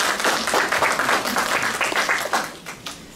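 Loud, close applause from a conference audience at a Katyń Museum event, many hands clapping in a dense, slightly pulsing burst lasting about three seconds.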